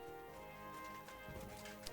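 A horse in Kingdom Come Deliverance 2 clip-clops with steady hoofbeats under soft background music, fairly quiet and without speech.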